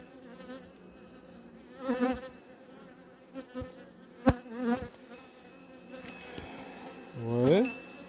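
Bees from an open honeybee colony buzz during a hive inspection, a close, steady hum broken by louder passes as individual insects fly near, with brief clicks and bumps of handling.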